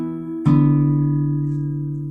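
Guitar chord rings near and clear, then a fresh pluck moves the bass from D down to C, the new chord sustaining and slowly fading with no voice over it.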